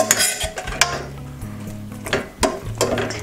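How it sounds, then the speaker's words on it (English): Mushrooms are stirred in a covered pan while cooking with a splash of wine. A utensil scrapes and clinks against the metal in uneven strokes over a low background hum. "stir up the mushrooms"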